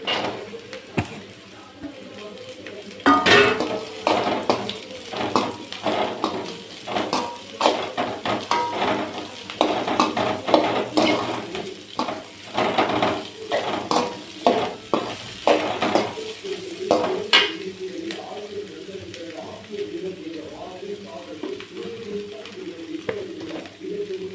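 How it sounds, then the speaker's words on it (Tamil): Sliced bitter gourd sizzles and fries in a pan while a spoon stirs and scrapes, producing irregular clattering over a steady crackle, close up. "நான் நறுக்கி வச்ச பாவக்காய் போட்டுடலாம்."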